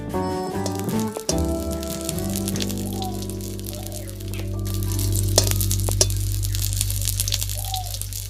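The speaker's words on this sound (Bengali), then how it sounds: "এইভাবে আমি বাকিগুলো ভেজে নেব" Egg and flour tiffin snacks fry in a pan with a soft crackling sizzle. Clatter at the start is followed by steady bubbling under a low hum, with occasional sharp pops.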